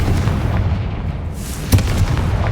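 In Hogwarts Legacy, a Confringo spell goes off as a heavy, booming explosion with a sharp burst near the middle, set against dense, loud rumbling game noise.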